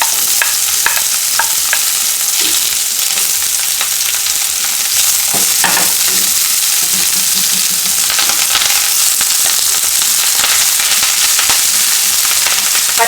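Sliced onion and curry leaves frying in oil for poha make a loud, dense, continuous crackling sizzle close up, broken by occasional stirring clatter. There is no talking.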